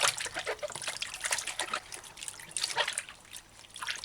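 Tap water trickling and splashing while cucumber skin is washed for a Jamaican side salad, a steady close dribble with small splatters throughout, no voices.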